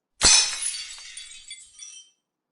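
Glass shatters in a single sharp crash, with bright tinkling shards scattering and fading over about two seconds, close and isolated against silence.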